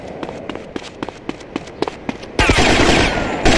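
Video game gunfire in GTA Vice City Stories: a rapid string of sharp single shots, then a dense, loud sustained burst of automatic fire near the end.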